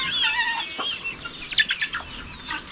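Farmyard chickens give a run of quick, soft clucks at moderate distance, with a brief thin call near the start and scattered pecking-like chirps throughout.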